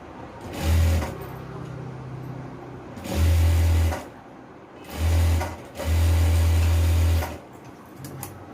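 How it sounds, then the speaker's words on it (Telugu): A sewing machine double-stitches a simple frock in four runs of a deep humming motor with rattling needle, near and fairly loud, the longest lasting over a second, with quiet pauses between. "డబుల్ స్టిచ్ వేసేయండి"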